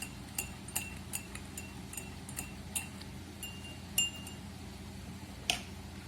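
A spoon stirring oil and water in a glass gives a series of faint, light clinks spaced through the clip, with a louder tap near the end and no voices.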